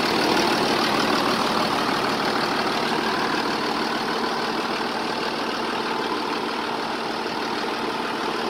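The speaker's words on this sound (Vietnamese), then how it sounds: "tại động cơ sau máy thì nó sẽ thở như đó chứ không phải là đổ hơi đâu" Iseki 8010 tractor diesel engine idling steadily on its own, a constant, fairly loud mechanical drone with breathing from the engine and no talk over it.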